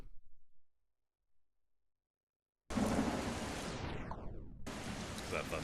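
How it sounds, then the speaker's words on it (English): Loud rolling thunder and heavy rain in a shooter video game burst in suddenly after a quiet stretch, with a descending whoosh and a brief cut before the storm resumes; someone speaks faintly at the start. "Because that thunder's kinda loud."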